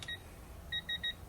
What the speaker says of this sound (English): it starts beeping